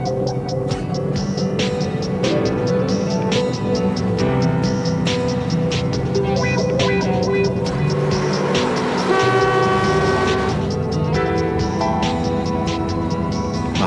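An ore train on Tasmania's Emu Bay line gets moving, with loud, close engine rumble, squealing and clanking metal, and several tonal horn-like blasts layered over continuous mechanical noise.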